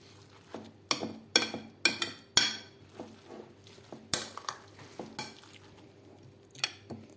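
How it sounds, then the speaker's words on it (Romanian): Celery, carrot and apple salad mixture stirred in a bowl, giving a run of close, uneven scraping and clinking strokes, louder bursts early on that ease into softer, intermittent stirs. "Omogenizăm bine compoziția."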